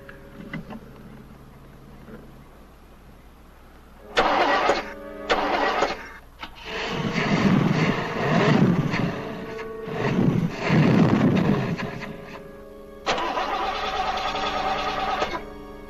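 A car engine cranks, stumbles and catches in several attempts, then runs with rising and falling revs before one last loud burst. It is close and mostly alone, with no talk.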